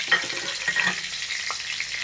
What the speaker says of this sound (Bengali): পটল ভাজার তেলের মধ্যেই আমি এই ফোড়নটা, গোটা গরম মশলা, জিরে, তেজপাতা, ফোড়নটা আমি দিয়ে দিলাম।